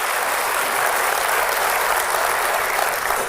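An audience at a Lok Adalat event applauds to welcome the Chief Justice, with dense, loud, sustained clapping filling the whole stretch without a break.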